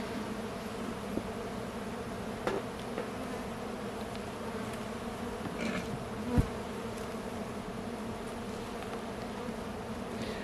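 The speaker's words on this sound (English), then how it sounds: "These bees are not mad at us, but they are definitely saying, all right, your time is up." A steady, dense buzz of many honeybees around an open hive during a mid-July inspection, continuous and even throughout with a few louder passes close by.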